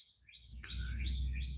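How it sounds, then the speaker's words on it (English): Birds chirp outdoors behind a person speaking from outside, a few short, fairly faint high calls repeating over a low rumble of outdoor noise. "And you hear the birds too? And the birds are saying hello to you."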